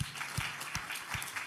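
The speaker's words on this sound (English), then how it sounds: "So maybe again, round of applause, no?" Light audience applause at a submarine cable conference, soft rapid clapping from a modest group, fairly faint and brief.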